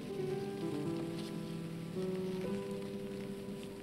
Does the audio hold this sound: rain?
yes